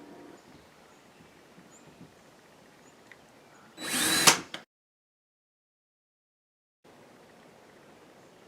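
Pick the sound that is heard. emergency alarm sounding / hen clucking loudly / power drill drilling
power drill drilling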